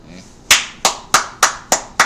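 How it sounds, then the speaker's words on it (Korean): An audience at a talk show claps in steady unison, about six loud, sharp claps evenly spaced roughly a third of a second apart, with no voices over them. "박수 치고요."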